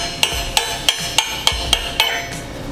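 A bolt is worked through a tight under-hitch mount on a John Deere 3046R compact utility tractor, producing seven sharp, evenly spaced metallic taps, about one every third of a second, close and fairly loud.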